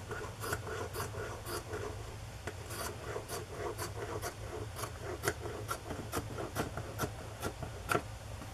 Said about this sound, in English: This is an uneven edge, so I'm going to trim that.